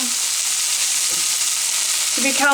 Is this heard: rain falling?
no